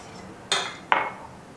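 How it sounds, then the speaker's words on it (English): A utensil strikes a metal pot twice, two sharp clinks about half a second apart, as lemon juice is stirred into a grapefruit jelly mixture. "To 1/4 cup of lemon juice. I'll stir that in."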